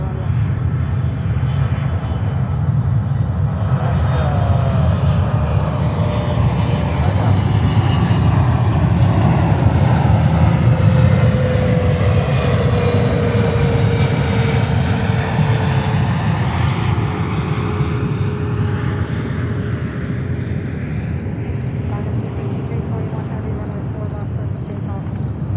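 Airliner taking off from runway 4 left at JFK airport in New York, a loud sustained engine roar with a long sweeping tone that swells and slowly fades as the plane climbs away.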